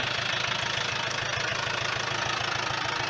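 A Yanmar FX 305 30-horsepower tractor engine runs close by in a steady rhythmic idle with a knocking diesel beat and no talking, on an overgrown plot being mowed.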